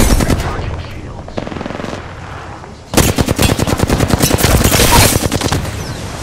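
Rapid automatic gunfire in the video game Apex Legends, a quieter stretch of shots giving way after about three seconds to loud, dense bursts of machine-gun fire that continue to the end.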